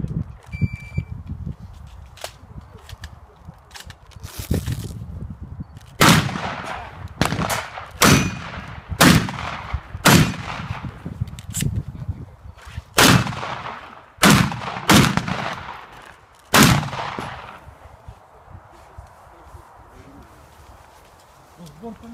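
Gunshots at a practical shooting match, a string of sharp, loud cracks fired in uneven quick succession, some close together, with faint background noise between shots.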